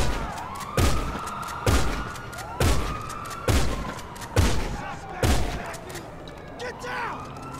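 Pump shotgun in GTA Online fired six times at a steady rhythm of roughly one shot per second, each blast loud and sharp with a short ringing tail, followed by quieter game ambience.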